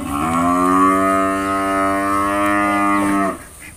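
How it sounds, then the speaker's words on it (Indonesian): A cow in a pen in a rural village gives one long, loud, close moo lasting about three seconds before it stops, with no one talking. "Sapi. Lagi kandang Mbak."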